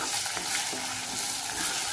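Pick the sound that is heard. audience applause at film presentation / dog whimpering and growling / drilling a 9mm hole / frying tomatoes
frying tomatoes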